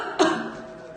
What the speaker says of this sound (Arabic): حيث تعمد الطبيب تصوير سعال المريضة حتى يتم تمييز سعال المريض المصاب بفيروس كورونا عن السعال العادي